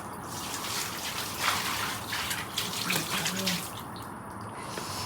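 Water runs steadily from a tap, a continuous broadband splashing rush with faint talk in the background.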